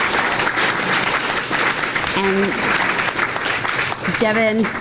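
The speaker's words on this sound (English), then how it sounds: "So help me give a round of applause for our fantastic speakers." Audience applause for speakers at a solidarity event in Hawai'i, loud and continuous clapping from a crowd, with brief voices and a short spoken word cutting through near the end.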